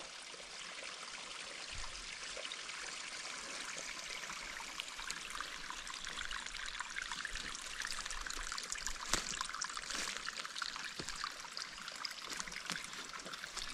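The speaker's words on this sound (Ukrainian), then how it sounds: "Струмочек так журчит." A small forest stream in the Carpathian mountains babbling steadily, a close, continuous bright gurgling and trickling rush that holds even throughout, with no talk over it.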